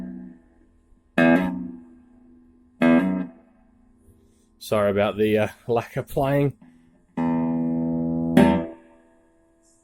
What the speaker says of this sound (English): you can hear the reverbs working beautifully there